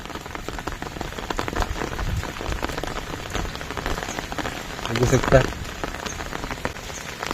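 Steady rain patters on a village rice field near Dahanu, a dense, close hiss of drops with a brief louder burst partway through and someone speaking softly over it.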